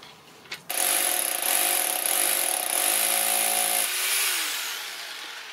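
A power drill bores through a hard wooden board clamped tight beneath a millstone workpiece, starting with a sharp whine that holds steady for several seconds before the pitch drops and the motor winds down.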